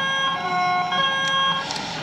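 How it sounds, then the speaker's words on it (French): A TGV Duplex horn sounds in a Train Simulator game, steady tonal blasts carrying over a constant background hum for about two seconds. "un petit coup de klaxon."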